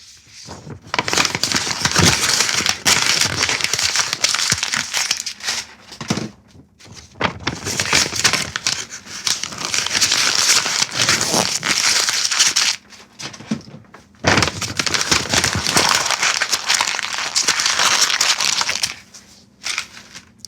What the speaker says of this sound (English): several sheets of paper being crushed